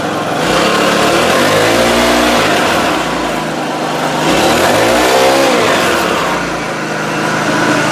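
A mini power tiller's small engine runs close and loud after starting, a steady chugging drone that swells and eases in pitch as it revs, with no speech over it.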